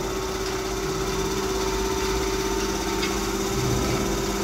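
A thyristor/IGBT-controlled DC motor drive with tacho-generator feedback runs steadily at minimum load, giving a constant, loud electrical hum with a faint whirring rattle and no break throughout.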